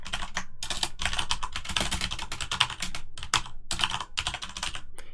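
Rapid typing on a computer keyboard while writing ArnoldC code, close and steady, with bursts of keystrokes broken by a few short pauses.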